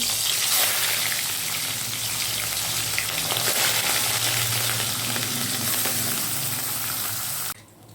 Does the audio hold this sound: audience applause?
no